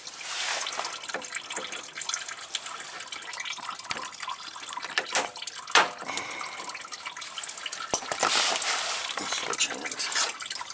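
Coolant trickles and drips from the open radiator drain plug of a 2007 Toyota Sequoia, a continuous splashing stream with scattered drops, heard close with faint talk around it.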